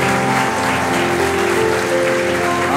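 Church congregation clapping in praise during a gospel song, dense continuous applause over sustained musical tones, loud and steady.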